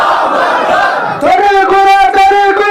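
A large crowd at a Rohingya religious sermon gathering chants in unison in response to a Takbir call, loud, close voices rising together after a lone caller's shout.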